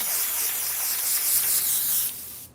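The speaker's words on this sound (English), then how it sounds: "You can spray that water all over the place." Water spraying from an airbrush gun, a steady close, loud hiss running continuously before cutting off near the end.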